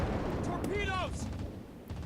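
Torpedo explosions in a World of Warships Blitz naval battle give a deep, rumbling boom and a sustained low roar. A voice speaks over the blasts.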